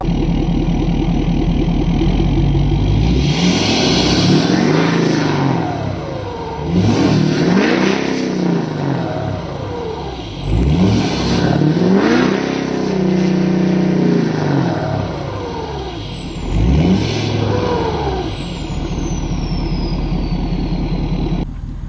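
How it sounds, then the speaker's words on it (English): Ford 6.7 Powerstroke diesel truck with a non-VGT turbo, accelerating hard several times in a row. The engine note rises and falls in loud, close pulls with a whining turbo sweep on each, and no one talks. "It really throws you back in your seat. It sounds awesome, and it doesn't quite have the same note as a stock turbo."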